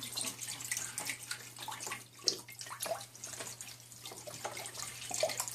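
Store-bought chicken broth, about four cups, poured from its carton into a pot of shredded chicken, a steady splashing liquid stream over a low kitchen hum.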